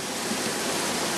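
Whitewater rapids on the Lower Kern River churn in a constant loud hiss and roar, close and unbroken, with no voices.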